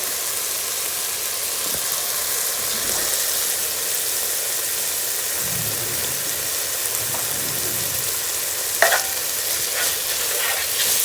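Bacon cooks in a pot for potato soup, giving a constant, close frying hiss that stays even for the whole stretch, with a few faint clinks and one sharper knock partway through.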